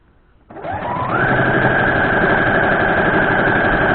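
A sewing machine starts up after half a second of quiet and revs into a steady, fast, loud mechanical whir as it stitches quilt strips, the needle chattering continuously without any talk.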